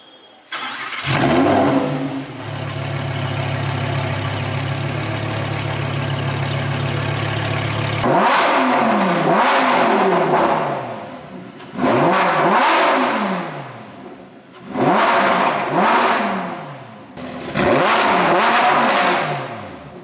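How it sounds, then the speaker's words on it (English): A Lamborghini Huracan STO engine starts and idles, then its exhaust revs hard four times in bursts, each loud roar rising and falling sharply. "So let's hear the exhaust now."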